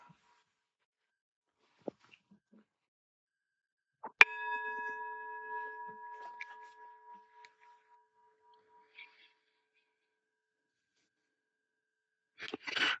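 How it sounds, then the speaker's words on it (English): A temple bell struck once in a quiet room, a sharp clear strike followed by a long ringing tone that slowly fades over several seconds, with a few faint small knocks before and after. "The eternal ancient sound of the temple bell."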